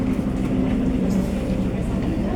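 Low, steady rumble of a Tokyu 8500 series electric commuter train rolling by, a continuous dense roar with faint rattling and a voice murmuring underneath.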